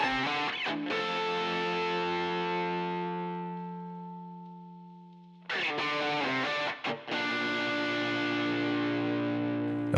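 Distorted electric guitar played through an amp plugin with delay and bus reverb, a sustained chord that slowly decays and rings out before a second loud strummed chord, all upfront with no talk.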